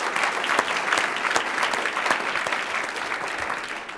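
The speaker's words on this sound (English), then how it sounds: "So please give Scott a big round of applause for all of his leadership." Steady applause fills a hall at an award ceremony, a crowd clapping evenly at moderate volume, with individual claps popping through.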